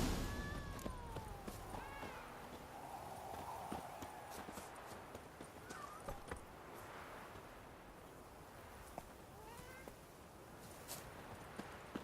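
Horse hooves drumming in The Witcher 3: Wild Hunt as the mount breaks into a run through fields, a faint, rhythmic patter beneath ambient game sounds and occasional character voices.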